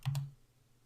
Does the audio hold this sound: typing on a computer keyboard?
yes